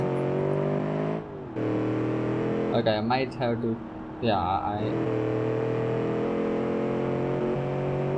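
Steady, close engine drone from a late-1960s muscle car in BeamNG.drive, with a brief dip near the start; someone speaks briefly over the loud continuous rumble midway through.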